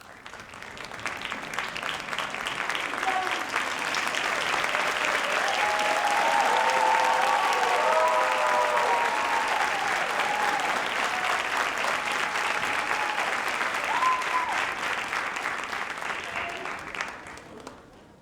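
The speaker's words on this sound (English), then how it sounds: "Give yourselves another round of applause." Sustained applause from a large audience at a Dean's List recognition ceremony for academic awardees, swelling to a full, steady roar of clapping with faint whistles and cheers mixed in, then tapering off near the end.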